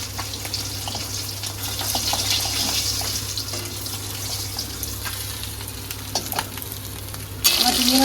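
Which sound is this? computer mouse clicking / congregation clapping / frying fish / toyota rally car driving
frying fish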